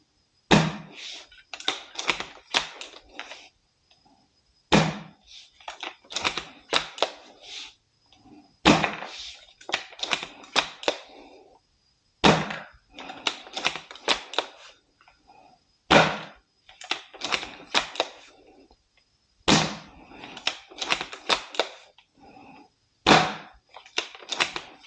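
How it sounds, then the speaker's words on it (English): A Steyr Scout airsoft sniper rifle fires about ten shots through a chronograph, each a sharp, loud crack followed by a spell of rattling bolt cycling, repeating steadily at roughly four-second intervals with no talking. "now I'm going to put 10 rounds through the chrono"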